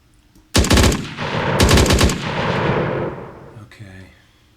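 Gunfire in an Unreal Engine third-person shooter game rings out in two loud, rapid automatic bursts about a second apart, followed by a fading tail and a short electronic blip.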